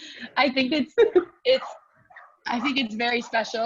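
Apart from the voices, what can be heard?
dogs barking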